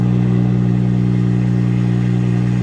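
A BMW 440i engine idles loudly and steadily just after a cold start, a constant low droning rumble held close by for the whole stretch.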